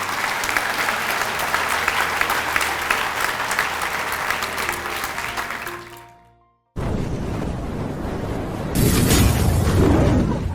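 Loud, sustained applause fills a school hall during a Grade 8 blazer ceremony, steady clapping from a large audience that cuts off abruptly, then resumes as another burst of clapping.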